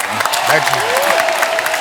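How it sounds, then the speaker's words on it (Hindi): Brief burst of clapping from a TV comedy show studio audience, mixed with voices talking over it. "इनके लिए जोरदार तालियां हो जाएं।"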